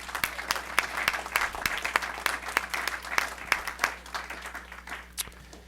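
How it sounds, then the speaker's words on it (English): Audience applauding at a school board of education meeting, a room full of dense, steady clapping with sharp individual claps standing out, continuing for several seconds. "You can all clap to that."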